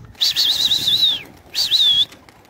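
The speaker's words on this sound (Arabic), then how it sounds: "شوف بتطير حمام" Pigeons taking off and flying, with two bursts of wing flapping and a whistling whir, the first longer and the second shorter, close and fairly loud against a quiet background.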